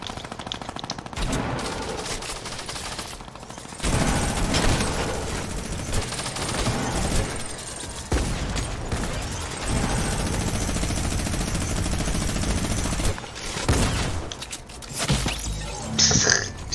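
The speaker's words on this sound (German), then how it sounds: "Pistole? Ne, war ein Gewehrschuss." Rifle gunshots ring out in Fortnite in repeated rapid bursts, loud and close, with mechanical clatter and short pauses between volleys.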